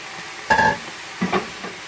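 Fresh spinach tipped into a cooking pot while making traditional shola, with a soft rustling, sizzling burst followed by a second shorter one, close and fairly quiet, no voices.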